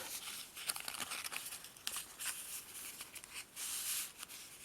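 Paper is folded by hand for an origami snowflake, giving faint, close crinkles and soft crisp rustles in short irregular bursts against a quiet room.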